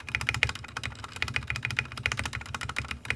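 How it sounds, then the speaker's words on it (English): Keys clatter on a Royal Kluge RK100 96% keyboard with factory-lubed switches, a quick close-up rhythm of clicky strokes punctuated by a rattly spacebar. "The spacebar definitely sounds the worst out of all of them. It's totally rattly in comparison to all the others."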